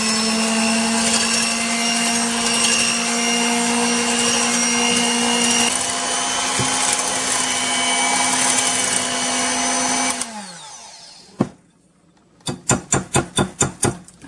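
An electric mixer whips heavy cream into a topping for chocolate mousse: a steady, loud motorized whine for about ten seconds that winds down, then a series of rhythmic knocks and taps.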